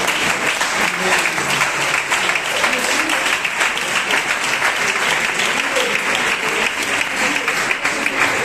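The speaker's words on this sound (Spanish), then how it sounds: "Dale un fuerte aplauso a este Dios tan maravilloso." A church congregation at a Gitano evangelical service in Sant Cosme claps loudly and continuously, a thick, steady roar of many hands that keeps an even intensity throughout.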